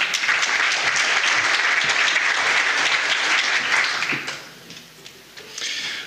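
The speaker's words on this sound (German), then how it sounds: "einen herzlichen Applaus, meine Damen und Herren" Audience applause at a talk on e-invoicing in public procurement, a dense sustained clapping crowd that is loud for about four seconds, then fades and tapers off before a brief smaller burst of clapping returns.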